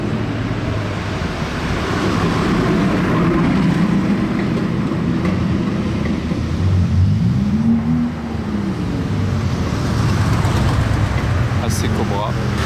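A steady rumble of old classic cars passing in a line, including a Lamborghini, an AC Cobra, a Mustang and a Vantage Roadster, engines droning one after another at moderate distance in Monaco, with a voice talking over the traffic.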